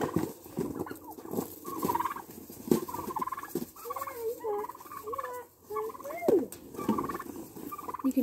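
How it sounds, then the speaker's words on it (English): Several turkeys gobble and chatter nearby, their warbling calls overlapping in a busy, continuous flock sound. "These are the turkeys."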